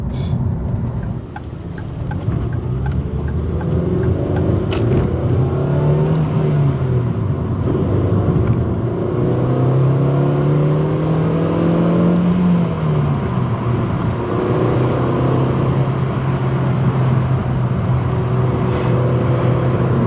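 A 2005 Ford Focus Mk2 engine hums and revs while driving, the pitch rising and falling through gear changes over steady road noise, close and loud.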